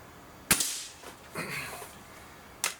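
A Gamo Swarm Magnum Gen3i .25 caliber air rifle fires a single sharp crack, followed by a faint impact and a second brief snap near the end.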